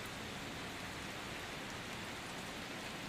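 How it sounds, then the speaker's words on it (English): Gentle rain falls steadily at the end of a late-summer day in England, a soft, even hiss of drops on surfaces that stays constant throughout with no voices or other sounds. "the kind of rain that makes you want to pause, to listen, to simply be"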